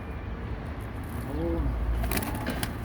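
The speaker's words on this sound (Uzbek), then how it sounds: "Bular o'zimizni Marg'ilonni kaptarlarida bular." Margilan pigeons give a soft low coo, a couple of brief warbling calls rising above steady background hum, with faint clatter near the end.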